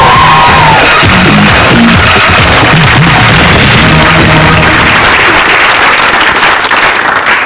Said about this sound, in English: A big round of applause for Sandy